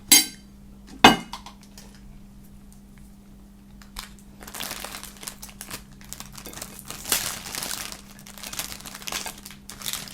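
Crinkly plastic wrapping on a Pokéball toy package is handled and torn open close by, with sharp crinkling bursts at the start followed by softer, ongoing rustling.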